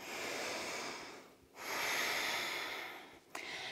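Slow, deep breaths during a yoga flow, two long breathy airflows of a few seconds each, close to the mic, with a brief sharp intake at the end and no talking.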